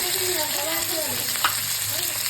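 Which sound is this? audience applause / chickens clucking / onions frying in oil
onions frying in oil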